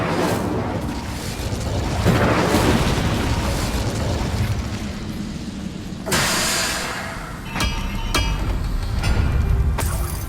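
A fire spell cast in the wizarding game Hogwarts Legacy erupts in a loud, sustained whooshing blast, followed by sharper bursts and crackling impacts near the end.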